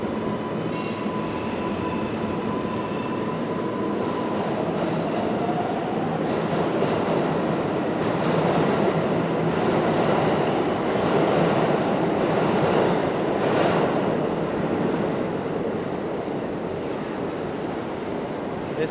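A number 7 subway train at the Times Square 42nd Street station in New York City, with a long, steady rumble of rolling cars, brief wheel squeals and clatter echoing through the busy station.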